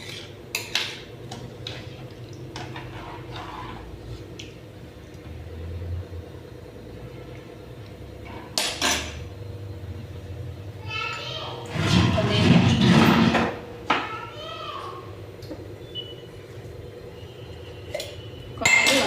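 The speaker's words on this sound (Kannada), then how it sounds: "ನೋಡಿ ಹಾಕಿ ಇದನ್ನು ನೀಟಾಗಿ ಮಿಕ್ಸ್ ಮಾಡಿರಿ" A spoon stirs masala vegetable pulao in a metal pot, with scattered scrapes, clinks and knocks against the pot, separated by quiet stretches, and a voice talking at times.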